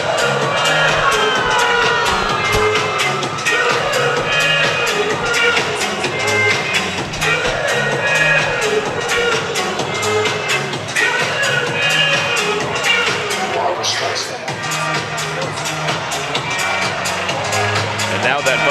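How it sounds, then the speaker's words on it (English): A high school basketball crowd in a gym cheers loudly and without a break during the final quarter of a close game, with a sports announcer talking over the noise. "And now that Viking crowd really getting into it right here."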